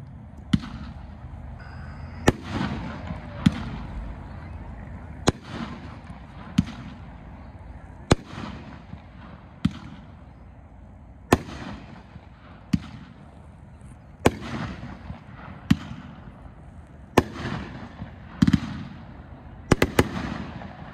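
A consumer firework cake called Cannon Fire shoots a series of sharp, loud reports spaced roughly one to two seconds apart, each followed by a crackling, fizzing tail, with no talking.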